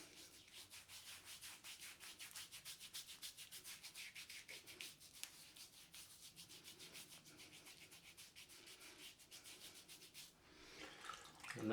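Shaving soap being worked into a lather, a brush rubbing continuously with a soft, rhythmic scrubbing swish, close and quiet, briefly changing near the end.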